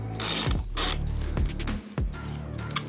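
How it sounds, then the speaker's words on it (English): A hand ratchet with a 7/16 12-point socket clicks in quick bursts while unscrewing a fairing support bracket bolt on a Harley-Davidson Road Glide, close and alone with no talk. "I'm using a 7/16 12-point socket. We're gonna unscrew that."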